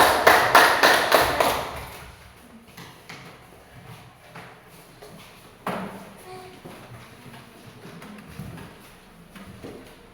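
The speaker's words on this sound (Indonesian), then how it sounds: "Tepuk tangan untuk kelompok 4" A short burst of group clapping in a classroom at the start that quickly fades, followed by scattered taps and room noise.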